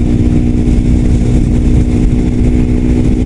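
A loud Suzuki GSX-R125 motorcycle engine runs steadily close by, a constant buzzing drone with no talking.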